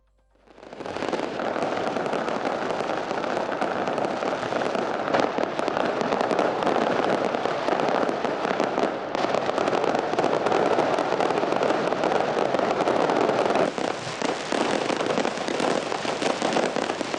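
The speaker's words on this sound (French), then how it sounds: "La cérémonie a été clôturée avec un magnifique feu d'artifice." Fireworks at a closing ceremony, a dense, continuous barrage of crackling bursts and pops that stays loud for the whole stretch, with no voices.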